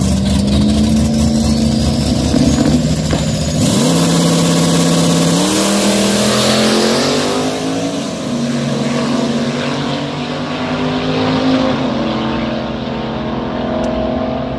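A no-prep drag race car at a pro street event roars loudly down the strip, engine note climbing steadily through a long, sustained acceleration run with no voices present.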